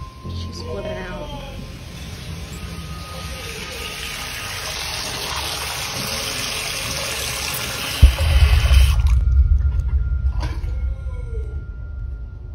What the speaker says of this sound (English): Fucking water's on.